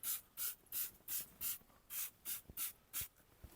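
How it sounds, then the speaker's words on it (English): Cockpit cleaner misted from a twisted-open nozzle onto the caked-on interior surfaces of a BMW, heard as about nine short, close hissing spray bursts in a steady rhythm, with no talk. "take the cockpit cleaner, make sure the nozzle is twisted to open, and just spray a little light mist everywhere"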